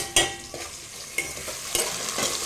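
A masala mixture being stirred in a pot for a Shivaratri festival meal, a few distinct scraping strokes of a spoon against the pot over a soft sizzle, close and clear.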